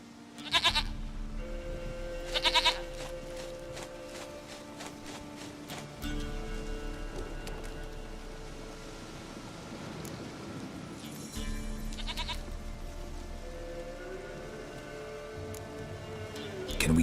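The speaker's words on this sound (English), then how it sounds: "Goat of mine, dearest, sweetest goat" A goat in The Witcher 3 bleats several times, short nasal calls repeating at intervals over a quiet outdoor ambience.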